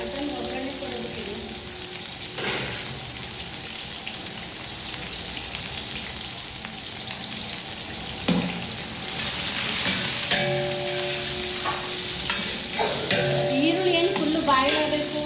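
Whole spices and onion tempering in hot oil for a rustic mutton dish, a continuous close crackling sizzle throughout with occasional stirring scrapes and faint background voices.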